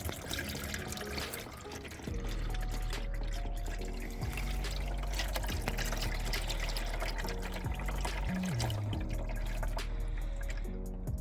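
Transmission fluid drains from the drain plug of a Honda CR-V in a steady, continuous stream that splashes close by without a break. No one speaks over it.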